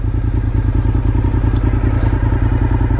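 A 2001 Honda RC51 V-twin sport motorcycle with 18,000 miles idles close by, its loud, steady, lumpy pulsing throb running unbroken throughout.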